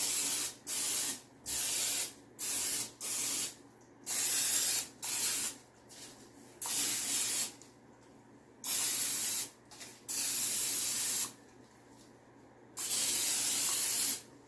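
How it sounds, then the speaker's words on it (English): Repeated bursts of cooking spray on turkey skin, about ten short hissing blasts of varying length separated by brief pauses, close and fairly loud. "is just hit it with some cooking spray on the outside"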